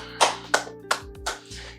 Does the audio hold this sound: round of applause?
yes